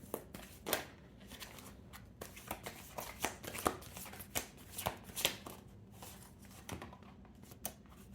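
Tarot cards drawn and shuffled from a deck, a run of close, dry papery snaps and riffles in irregular bursts, fairly quiet with no voice over them.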